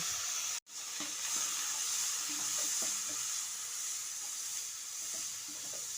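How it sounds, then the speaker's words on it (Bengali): Spices with a splash of water sizzling in a pan for crispy potato patties, a steady loud hiss with scattered soft stirring scrapes, one brief dropout early on and no voices. "এবার মশলাটার সঙ্গে একটু কষিয়ে নিচ্ছি মশলাটা যাতে পুড়ে না যায় সেজন্য সামান্য একটু জল দিয়ে দিচ্ছি"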